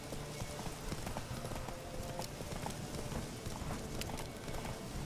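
Rapid hoofbeats of a galloping black stallion in the video game The Witcher 3 pound steadily under a dense wash of noise, with faint voices in the background.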